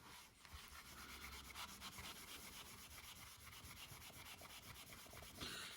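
Steady, close scrubbing as abrasive compound is rubbed by hand onto the finish of a Stratocaster guitar, a continuous gritty rub with brief rhythmic strokes and no talking.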